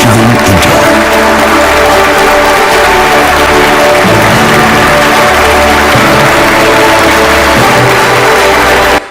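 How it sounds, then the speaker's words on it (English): Audience applause in a large hall at a live awards ceremony for Endemol Shine India, named Best Production House, a dense, loud and steady clapping sustained throughout with no voices over it. "join me in applauding Endemol Shine India, Best Production House"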